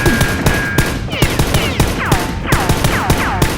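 Rapid volleys of toy Nerf gun fire during a staged action fight, loud and continuous with sharp repeated bursts and whooshing, zipping effects layered throughout.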